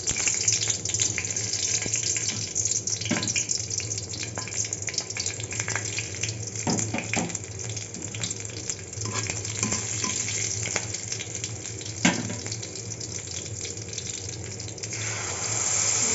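Tempering spices sizzle steadily in hot oil in a wok, a constant crackling hiss with occasional stirring clinks and scrapes close by.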